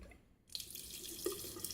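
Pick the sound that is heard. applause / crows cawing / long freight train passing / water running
water running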